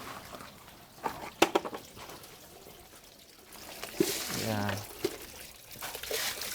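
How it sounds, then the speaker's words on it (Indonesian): Water splashes and trickles as it is poured over salted duck eggs to wash them, with faint clatter and drips at a close distance, under a brief spoken word. "Oh, dicuci langsung disiram air ya"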